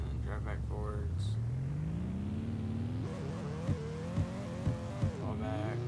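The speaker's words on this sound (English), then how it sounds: "So just let your car fall back and then drive back forwards." A car drives in the Roblox game Drifting Simulator, its engine rising in pitch as it accelerates, then revving up and down with short bursts, while a person talks over it.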